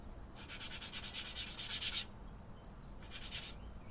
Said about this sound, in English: Sand a little and just check it, reference it.